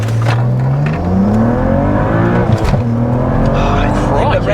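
A BMW E92 with the N54 engine accelerating hard from a standstill, the engine note climbing steadily and hitting the rev limiter, loud and close from inside the car with voices over it.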